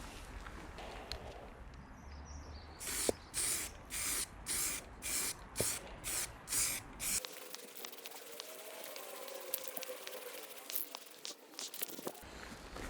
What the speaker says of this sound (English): I'm going to try and put on one last coat of primer